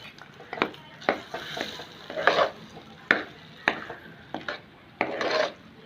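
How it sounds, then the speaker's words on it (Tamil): A spoon stirs fried cashews and curry leaf tempering into kodo millet ven pongal in a pot, making repeated close scraping and rubbing strokes in an uneven rhythm, with a faint sizzle between them and no talk. "இதை நல்லா கலந்து விட்டுட்டு நம்ம பொங்கலில் கொட்டிடலாம். இதில் போட்டு நல்லா கிளறிடலாம்."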